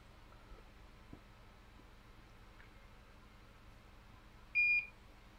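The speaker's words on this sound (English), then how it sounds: "They don't like the beep when my machine turns on." A single short electronic power-on beep from a soldering iron station sounds clearly over a quiet, hissy room, lasting about half a second.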